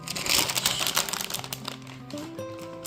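A paper packet of Kurkure snacks is crinkled and rustled close by in a burst of sharp crackles, which fades as a soft tonal sound rises near the end.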